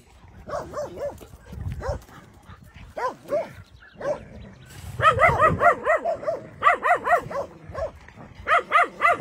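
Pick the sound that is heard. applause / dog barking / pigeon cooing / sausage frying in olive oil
dog barking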